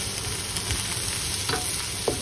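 Garlic frying in a pan sizzles and crackles steadily, with a few soft stirring scrapes and clicks close by and no talking.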